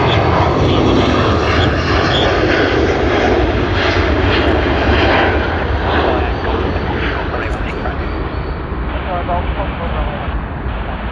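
An Air Canada jet departs Sydney Airport bound for Vancouver, its engines roaring loudly and steadily throughout, close and dominant from start to finish.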